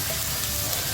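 Minced meat keema sizzles steadily in a pan over a medium-high flame, a dense, even crackling fry.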